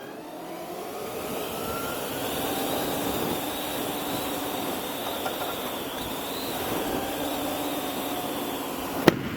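A Zero SR/F electric motorcycle with Continental TKC-80 tires accelerates hard from a standstill to 80, producing a rising electric whine over steady wind and road roar, loud and continuous.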